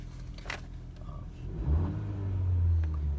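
Engine of a 2017 Honda Civic Si rumbles low while driving, building gradually under steady road noise inside the cabin, moderately loud with no talking.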